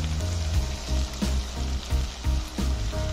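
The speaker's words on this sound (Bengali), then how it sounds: "পেঁয়াজগুলো যখন হালকা বাদামি কালার হয়ে গিয়েছিল তখন আমি বাকি মশলাগুলো দিয়ে দিয়েছি।" Lightly browned onions with added spices fry noisily in a pan for hilsa fish curry, a continuous close sizzle broken by rhythmic scraping strokes of a spatula as the mixture is stirred.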